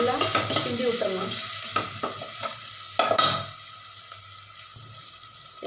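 A spoon stirs fenugreek sambar with sambar powder in a pan, giving close, irregular scraping and soft sizzling, with a few louder clacks and a quieter simmer toward the end.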